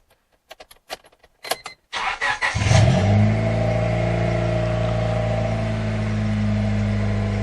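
A 1998 Honda Civic starts up: keys jangle and click in the ignition, the starter cranks briefly, then the engine catches with a rev and settles into a steady, close idle hum.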